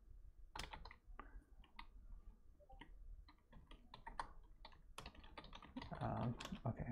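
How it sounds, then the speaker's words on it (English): Soft, distant keystrokes on a computer keyboard tap in quick irregular bursts against faint room noise. "Let me just type in here to Shanahan."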